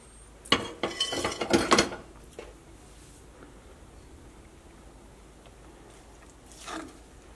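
Flour is mixed into plum cake batter in a bowl: a quick flurry of rattling spoon-on-bowl scrapes and clinks, a long quiet stretch, then one softer scrape near the end.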